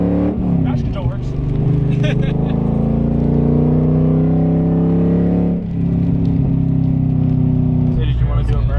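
A Corvette out on a test drive, its engine droning loud and steady inside the cabin with gear shifts and shifting pitch, while people talk over the noise.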